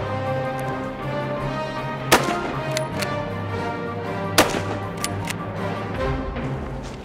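At the Nîmes Shooting Club range, a rifle fires two sharp, cracking shots a couple of seconds apart over a steady background hum.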